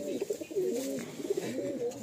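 Loft pigeons coo in soft, repeated rolling calls at a pigeon sale, fairly close but quiet, with a faint hiss of background noise and no clear talk over them.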